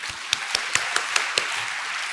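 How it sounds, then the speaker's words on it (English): Applause from a group at a conference talk, with a steady wash of clapping and a few sharper individual claps standing out at a regular pace. "give yourselves a round of applause just for being here."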